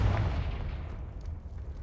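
Confringo fire spell blast in Hogwarts Legacy: a deep booming burst that rumbles and decays into a low sustained roar, loud and close, with no speech.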